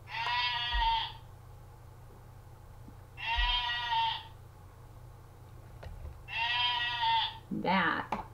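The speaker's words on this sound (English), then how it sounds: "That was the sheep." A sheep bleats three times in separate, evenly spaced calls, each a loud, wavering cry, followed by a short burst of a person's voice at the end. A steady low hum runs underneath throughout.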